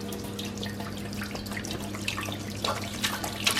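Tap water runs steadily into a pot being filled with two gallons for brewing beer, with a constant splashing rush and a low hum underneath.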